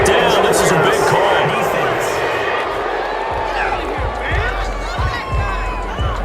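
A home stadium crowd in Madden 21 roars and cheers after a big fourth-down penalty call, Titans at Vikings, a dense steady wall of noise with commentators talking over it.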